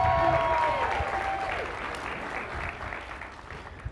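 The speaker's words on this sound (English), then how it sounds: "How about a round of applause for Brad Stone?" An audience at a graduation ceremony applauds, a dense, steady wash of clapping that slowly fades over a few seconds, with a brief tonal sound near the start.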